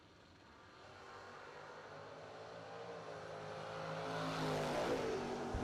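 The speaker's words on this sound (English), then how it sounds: "The white Monza in the left lane, taking on Corey Anderson in the white Camaro" Drag race cars, a white Monza and a white Camaro, at a drag strip, their engine roar starting faint and distant and building steadily louder over several seconds.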